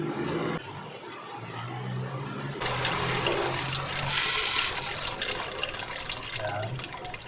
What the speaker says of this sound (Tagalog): lalagyan na natin yung kakagata.